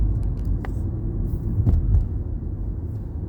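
Steady low rumble of a car cruising on the I-95 highway in Philadelphia, heard from inside the cabin, with a few faint clicks over the constant road noise.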